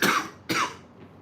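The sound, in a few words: coughing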